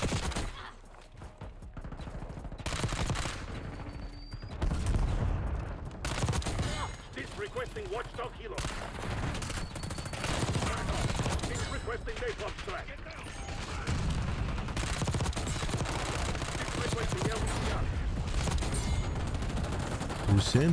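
Bursts of rapid submachine-gun fire from an LC-10 SMG in a Call of Duty Black Ops match, repeated volleys with mechanical clatter between them, mixed under a talking voice.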